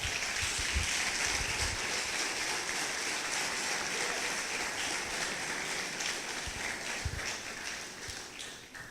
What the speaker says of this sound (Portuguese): Você pode aplaudir o Senhor por essa verdade?